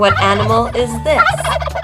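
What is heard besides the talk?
turkey gobbling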